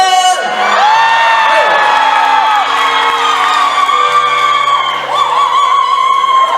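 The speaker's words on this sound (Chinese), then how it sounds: "尖叫声！" An audience at an outdoor hot spring festival concert in Beitou, Taipei screams and cheers loudly and continuously, with high whoops rising over a dense crowd roar.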